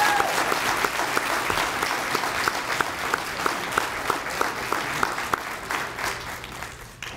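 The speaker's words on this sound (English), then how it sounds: "Join me, please, in giving them a round of applause." Audience applause at a fire department awards ceremony honoring recipients of a Meritorious Service Award, steady, dense clapping from a large indoor crowd that holds strong for several seconds before gradually thinning out at the end.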